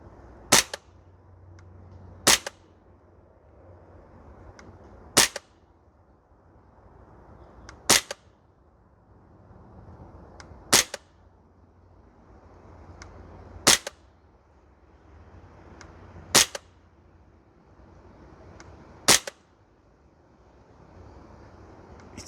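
An Archwick APC9K PRO gas blowback airsoft rifle fires single sharp shots on an outdoor range, eight cracks evenly spaced a few seconds apart, with quiet wind noise between them.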